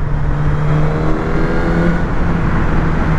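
Suzuki GSX-S 1000 motorcycle engine revving around 6000 rpm while riding, a loud steady droning roar with a sustained low engine tone and heavy wind noise throughout.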